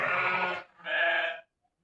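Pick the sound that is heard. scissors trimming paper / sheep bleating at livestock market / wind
sheep bleating at livestock market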